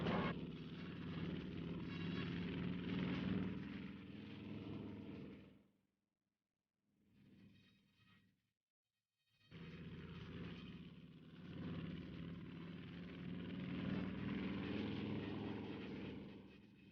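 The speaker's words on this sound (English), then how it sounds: "Crewmen cheered as one plane after another left the pitching deck." WWII bomber planes roar as they take off one after another from a pitching aircraft carrier deck, a loud, steady engine drone that briefly drops away in the middle before swelling again.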